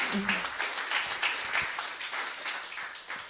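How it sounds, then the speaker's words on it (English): Audience at a people's health care forum applauding its speakers, a sustained round of many hands clapping at close range, steady and dense with a slight swell and fade near the end. "Let's give another round of applause for all of our speakers tonight"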